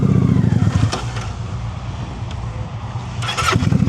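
A motorcycle engine idles with a low chugging throb, its throttle blipped into short louder revs at the start and end while the rider practises stopping technique.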